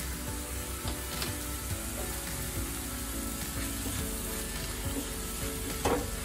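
Uttapam sandwich filling sautéed in a pan with cumin powder, chili powder and salt: a steady close sizzle and frying hiss with occasional stirring scrapes, no talk.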